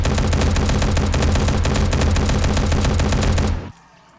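Sustained rapid automatic fire from a .45 ACP weapon in 7 Days to Die, aimed at a radiated zombie lumberjack: loud, dense burst after burst for about three and a half seconds, then an abrupt stop into quiet.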